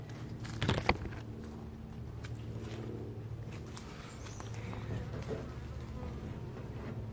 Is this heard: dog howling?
no